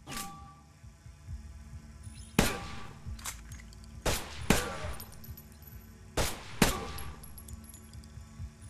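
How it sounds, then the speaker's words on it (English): Pistol shots fired in the VR game Stride ring out as about five sharp, loud cracks spaced irregularly over several seconds, each followed by a short decay, above a low steady background hum. "Take a pistol and shoot 7 times."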